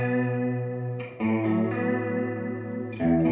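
A processed electric guitar plays the bottom notes of a song's tab, letting each ring with a chorused, slightly distorted tone before moving to the next.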